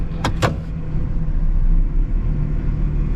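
A Ford OBS truck engine runs with a steady low rumble and a slight misfire, preceded by two brief sharp clicks or squeaks near the start.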